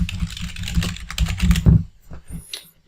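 Someone types a message on a computer keyboard, a quick run of close, crisp key clicks that slows and thins out toward the end.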